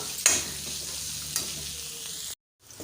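Chopped onions, curry leaves and coriander sautéing in a pan, a steady sizzle with a couple of sharp stirring scrapes, close and moderate, before a sudden brief silence.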